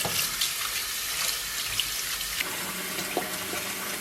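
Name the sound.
tap water running while rinsing pork ribs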